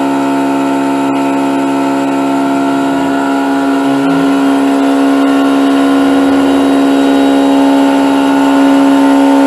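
A Langmuir Systems MR-1 mill cuts steel, and chatter along the Y axis comes through as a steady, loud, ringing tonal whine with layered harmonics that holds throughout.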